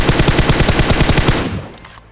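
Rapid automatic gunfire in the mobile game PUBG Mobile, a loud, fast burst of evenly spaced shots that stops and trails off into a brief fading echo.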